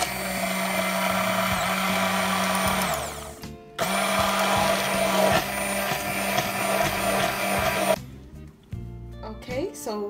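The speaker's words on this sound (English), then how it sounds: "I'm gonna go ahead and just use my hand mixer to fluff these egg whites up a little bit" A hand mixer whips egg whites in a bowl, its motor whirring loud and steady with a high whine, cutting off briefly, restarting, then stopping near the end.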